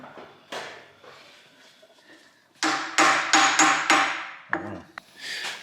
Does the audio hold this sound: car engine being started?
no